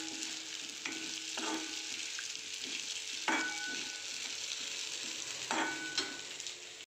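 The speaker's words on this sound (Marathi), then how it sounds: "आता आपण भात त्याच्यात ॲड करून घेऊया. मिक्स करून घ्यायचं व्यवस्थित." Steamed rice being mixed into fried masala in a pan, with several scraping, clinking spoon strokes at irregular intervals over a soft continuous sizzle, close by and without speech.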